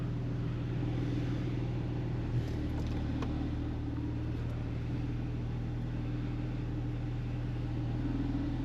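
A Porsche 911 Targa 4S setting off on a road test: a steady, low engine drone with a constant hum from inside the car, even in level and without distinct revs.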